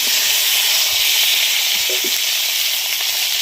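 Eggplant and potato pieces frying in hot oil with ginger and cumin paste for a fish curry, a loud continuous sizzle and hiss throughout, with faint stirring knocks and no talking.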